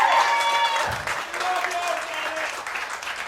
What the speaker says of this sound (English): Yeah, all right, you can clap for that.